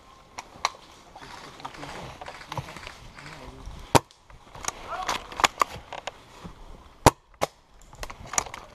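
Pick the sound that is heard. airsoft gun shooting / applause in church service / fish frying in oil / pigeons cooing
airsoft gun shooting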